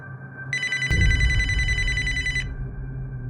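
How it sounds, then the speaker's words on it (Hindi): An electronic telephone ring sounds as one steady, bright trill for about two seconds, with a thump and low background noise under it. "उठाओ उठाओ, फोन उठाओ"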